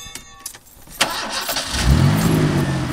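A truck engine cranks over and catches, then settles into a steady medium-pitched idle, loud and close with no talk.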